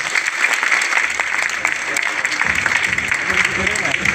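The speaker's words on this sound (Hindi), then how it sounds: "एक बार जोरदार तालियां अकरम सर के लिए होनी चाहिए" Loud applause for Akram sir rises from an audience at a Mi Lifestyle networking business seminar, a dense wash of clapping that holds steady, with a voice speaking faintly underneath near the end.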